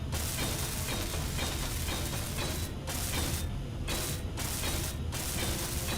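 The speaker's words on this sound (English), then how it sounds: "Let's weld those bits up." Welding mech parts with a welder tool in the Space Engineers video game, a loud continuous mechanical grinding and ratcheting drone that cuts out briefly a few times, no speech.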